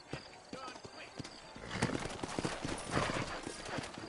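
In the video game Red Dead Redemption, horses' hooves clip-clop steadily while a horse whinnies, with someone speaking over the animals throughout.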